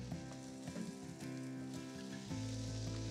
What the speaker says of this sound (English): You can really hear the difference in the sizzles.